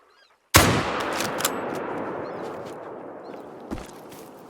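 A single sharp rifle shot cracks loudly in a hunting video game, fired at a fallow deer, then rolls off in a long echoing tail with a fainter thump near the end.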